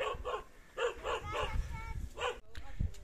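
A dog barks in a rural spot beside a small house built entirely of natural materials, giving a handful of short, separate barks spread across the stretch over a murmur of background sound.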